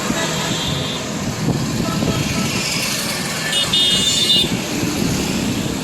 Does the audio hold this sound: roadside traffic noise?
yes